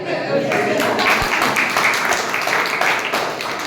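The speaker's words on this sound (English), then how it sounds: "I would request everyone to applaud for Mandeep." Audience clapping together at a Toastmasters club meeting, a steady dense patter of hands that holds for a few seconds at even loudness, filling the room with no talk over it.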